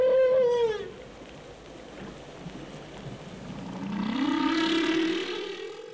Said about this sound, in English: And one of those Earth sounds is the song of the humpback whale.